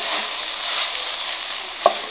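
Fried scrambled eggs are stirred into okra farofa in a hot pan, giving a steady bright sizzle with one sharp scrape or tap of the spoon near the end.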